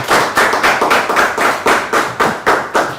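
Audience applause on a French-language television show, heard as loud, close rhythmic clapping in steady unison beats about every third of a second, with no voices.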